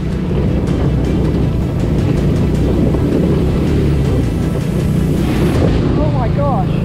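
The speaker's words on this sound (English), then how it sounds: "Say hello to the deepest water puddle on the entire trip." A mini Jeep drives through a deep backcountry water puddle in Colorado with a constant loud rushing, churning wash of water and engine under wind buffeting, with brief voices near the end.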